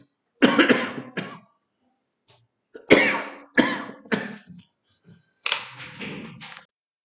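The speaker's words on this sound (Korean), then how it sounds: "기침이 나와서 미안합니다." A teacher coughs during a math lesson in repeated short, harsh bursts, a couple of coughs, a pause, then a cluster of three and a final longer one, close and clear in a quiet room.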